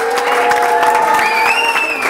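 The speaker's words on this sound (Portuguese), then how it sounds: "uma salva de palmas." A round of applause at a table tennis club's anniversary party, a crowd clapping loudly and continuously while a festive melody plays over it.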